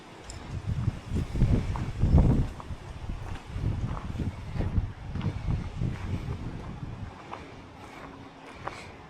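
Strong wind blows outdoors in gusty bursts, buffeting the microphone with low rumbling surges that swell and ease over several seconds.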